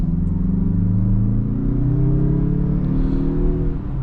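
A 2026 Mazda CX-30 Turbo Aire Edition under acceleration, heard from inside: a loud, steady engine drone whose pitch climbs gradually as the turbocharged motor builds boost, with no talking.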